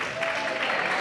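A wrestling crowd at an indie show applauds and cheers in a steady, dense wash of clapping and voices, continuous and fairly loud throughout.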